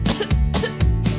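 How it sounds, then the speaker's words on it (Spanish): A cough sound effect in a Spanish-language children's song, with three short, loud coughs in quick succession set against the music. "La mosca tiene tos"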